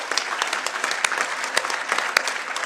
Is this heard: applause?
yes